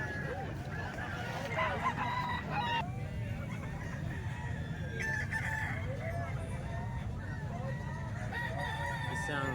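Chickens and roosters crow and cluck together at a farm in Calumpit, a steady dense chorus of overlapping calls with honk-like cries, moderately near and continuous throughout.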